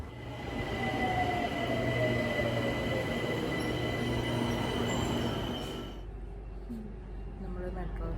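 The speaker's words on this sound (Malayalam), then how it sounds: "നമ്മൾ മെട്രോയിൽ കയറി." A BTS Skytrain metro train in Bangkok runs with a steady rumble and hiss from inside the carriage, a faint falling whine early on and high tonal squeal, easing into quieter running near the end.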